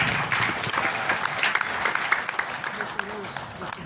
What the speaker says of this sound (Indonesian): Kita berikan tepuk tangan terlebih dahulu.